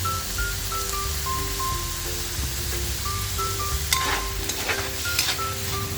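Chicken fried rice from leftover ingredients with oyster sauce being stir-fried, a steady close sizzle with scraping stirs and spatula clinks throughout, plus a faint steady hum in the background.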